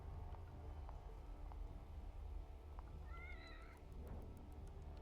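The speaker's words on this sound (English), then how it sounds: "A cat. A kitty cat." A cat meows in the video game The Evil Within: a short, faint mew or two, rising out of a dark, low ambient drone with scattered soft clicks.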